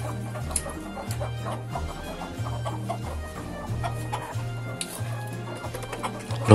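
Chickens in a coop cluck repeatedly in short, overlapping bursts, close by. A dog barks now and then in the background.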